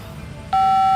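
Phone call to a number that is not active: faint room murmur, then a sudden loud steady electronic beep tone begins and holds to the end.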